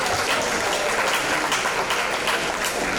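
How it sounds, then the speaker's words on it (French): Audience applause after a call to clap, a dense, steady wash of many hands clapping at even loudness for the whole stretch, with no talking over it. "Applaudissez s'il vous plaît"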